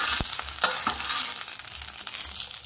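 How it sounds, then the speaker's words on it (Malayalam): Cashew nuts frying in hot ghee in a steel pot for a banana leaf milk payasam, a steady close sizzle with a few soft stirring scrapes and clinks. "ചൂടായപ്പം അതിലേക്ക് നമുക്ക് അണ്ടിപ്പരിപ്പ് ചേർത്ത് കൊടുക്കാം."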